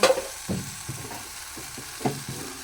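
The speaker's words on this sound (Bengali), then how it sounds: "ভালো করে নাড়াচাড়া করে এটাকে ভেজে নেব।" Potatoes fry with ground chili paste as they are stirred, bringing a soft sizzle under a few close scraping pushes of the spoon. There are no voices.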